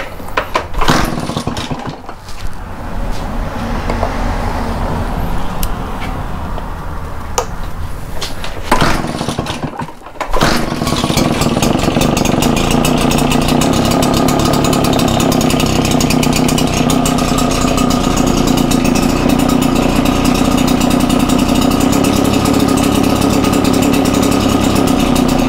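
A RedMax 8550 engine with a stuck throttle sputters roughly at first with a few dips, then surges into a loud, steady high-rev whine that holds without easing.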